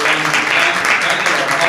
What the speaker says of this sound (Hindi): ताली बजाकर परमेश्वर के बल प्रणाम करना